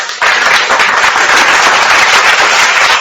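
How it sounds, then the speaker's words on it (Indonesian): A burst of hand clapping from a small group, loud and dense, starting abruptly and continuing steadily for a few seconds. "kita tepuk tangan."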